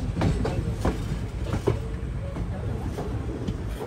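Passenger train 12604 from Cherlapally to Chennai Central rumbles along with a steady roar and faint rhythmic wheel clacks, heard continuously from on board with no voices.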